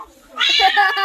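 A cat lets out one loud, drawn-out meow close by, strong and clear after a brief soft sound.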